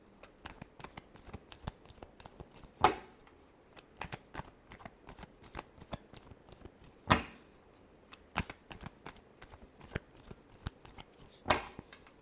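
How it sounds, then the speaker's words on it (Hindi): Tarot cards being shuffled by hand, with soft riffling and tapping throughout and three louder slaps or snaps spaced apart, close and fairly quiet, with no one talking. "last shuffle"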